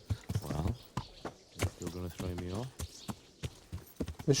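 Horse hooves clip-clop along in Kingdom Come: Deliverance, a steady rhythmic patter of moderate loudness running under singing and talk that dominate much of the stretch.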